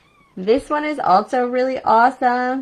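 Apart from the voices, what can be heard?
cat meowing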